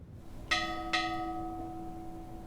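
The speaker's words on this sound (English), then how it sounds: "a bell was rung signaling the end of watch for 5 graduates" Two strikes of a memorial bell at an early morning ceremony at Maine Maritime Academy, each tolling clearly with a long ringing decay that fades slowly, moderately distant and alone in the quiet.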